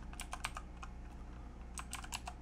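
Typing on a computer keyboard: quick bursts of soft clicking keystrokes close by, with a brief pause in the middle before another flurry of keys.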